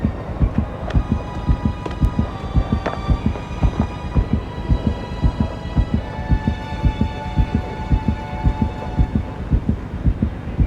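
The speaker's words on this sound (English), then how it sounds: "I hear something. It sounds like a heartbeat." A steady, loud heartbeat sound effect pulses in regular double thumps throughout, with a faint electronic hum and scattered tones layered above.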